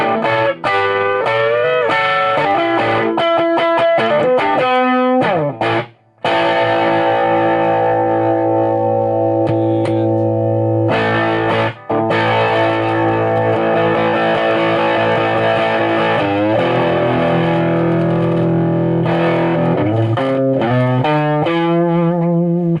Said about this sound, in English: There's a lot of good distortion in there.